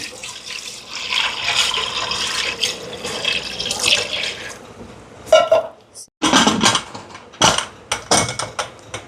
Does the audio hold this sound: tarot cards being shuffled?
no